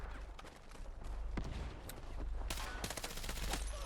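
Gunfire in Battlefield 6 infantry combat, rapid bursts of automatic shots with scattered single cracks, dense crackling volleys toward the end, moderately distant and continuous.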